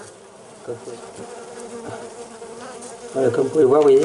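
Honeybees buzz inside a bee vacuum during a rescue, a steady hum that swells louder near the end while someone talks over it.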